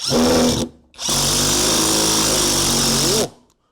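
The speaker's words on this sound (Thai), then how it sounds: "ไขควง กระแทกของทางไทก้อนใช้งานดีจริงแรงจริง" A Tigron cordless impact driver drives a screw in two loud, close bursts of whirring, rattling hammering, a short one then a longer run of about two seconds, ending in silence.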